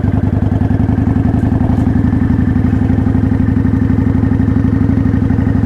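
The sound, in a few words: motorcycle engine while downshifting to second gear in a turn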